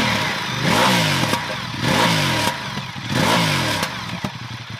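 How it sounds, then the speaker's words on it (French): Ducati XDiavel S motorcycle with its stock twin-outlet exhaust, revved repeatedly from idle in three or four loud, close blips that rise and fall, with a lumpy idle between them. "on en vient à cette partie échappement où déjà il y a une sonorité qui est loin d'être ridicule"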